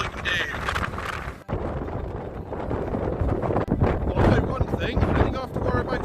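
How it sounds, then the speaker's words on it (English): Gale force wind roars across a rough sea beach, buffeting the microphone loudly and continuously, with surf rumbling underneath throughout. "it's proper windy"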